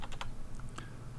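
Git command typed on a computer keyboard, a quick close run of several light key clicks early on, then a couple of scattered taps over a low background hum.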